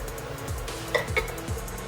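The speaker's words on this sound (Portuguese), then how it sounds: "Misture os ingredientes e adicione o cacau em pó." Butter and condensed milk being stirred together in a saucepan, with faint soft scraping and a few light clinks of the utensil against the pan, quiet and close with no talk.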